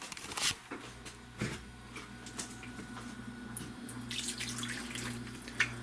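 Water runs from a tap into a metal pan of pork chops, a steady splashing stream with a few clinks of cookware, close and fairly quiet.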